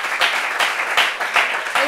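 Applause from a small group, with claps swelling in a regular pulsing rhythm, close and fairly loud for a couple of seconds.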